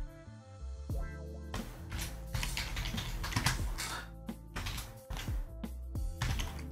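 Typing on a computer keyboard, a quiet patter of keystrokes in irregular bursts, heard faintly over a soft steady background tone.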